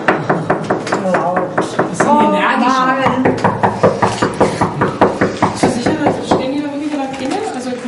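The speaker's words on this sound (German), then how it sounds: "Erstmal klopfen." Knuckles rap repeatedly on an office door during a street protest at a firm carrying out evictions, a steady series of sharp knocks under excited talk from several people nearby.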